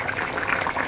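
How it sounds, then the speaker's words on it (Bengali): A pot of chicken and neem leaf curry bubbles at a vigorous boil, with soft, rapid popping and gurgling close by and no speech. "টকবক টকবক করে ফুটছে,"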